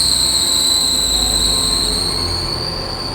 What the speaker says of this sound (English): There's nothing more annoying than that bloody sound. And that's a loose belt.